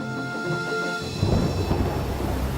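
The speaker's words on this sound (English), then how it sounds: "But that night, there was a big and blustery storm." Thunder rumbles low and heavy in a big, blustery storm with high winds over an island railway, rolling on for a couple of seconds under a sustained tonal hum, with no voices.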